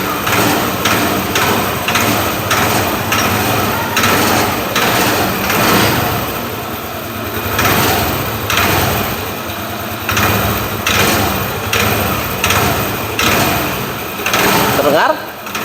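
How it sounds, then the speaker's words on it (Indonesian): A motorcycle engine warms up at idle with an unusual noise, a rapid rhythmic mechanical ticking and knocking running throughout, close and fairly loud, with occasional dips in revs. "ada suara yang tidak seperti biasanya yang terdengar dari mesin sepeda motornya"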